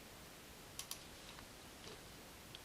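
Mouse clicks in Excel, two quick sharp clicks close together followed by a couple of fainter ticks against quiet room hiss.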